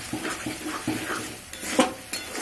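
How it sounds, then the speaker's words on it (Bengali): Beaten egg stirred into melted goat fat in a pan while making tadka dal, with soft scraping and gentle clinks of a spoon against the pan over a low sizzle, in irregular strokes. "ডিমটা দিয়ে দেব, দিয়ে আর একটু কষাতে থাকবো।"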